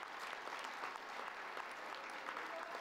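Sustained audience applause at a Quebec election-night speech, steady dense clapping filling the room for the new premier, with no voices rising above it.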